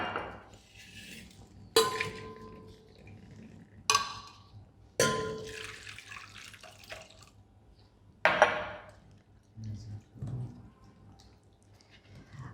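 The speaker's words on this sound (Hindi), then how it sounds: "उसको हम 600 ml पानी में पूरी रात भिगाकर एक वेसल में रख देंगे।" Water splashes and trickles into a vessel holding pieces of guduchi (giloy) stem, in several separate pours with drips and light clinks of the container between them, close and clear with no speech.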